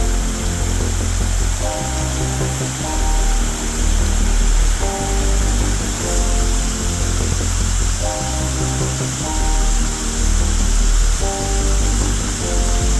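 A waterfall in Odaesan National Park, South Korea, roars as a steady, loud wash of falling water, broad and continuous throughout, with no voices over it.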